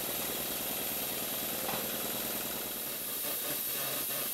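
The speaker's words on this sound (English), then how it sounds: "Here we have the engine running and the boiler's blowing off, and it's running at quite a good speed." A running model steam engine with its boiler blowing off, giving a loud continuous hiss over a rapid mechanical chugging rhythm, close and steady, with no voices.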